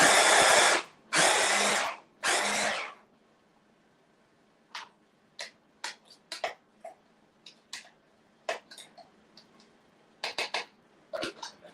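Kitchen food processor blitzing chestnuts and other vegan BBQ ingredients: three loud sustained whirring bursts, then a quieter run of short, scattered pulses and clicks.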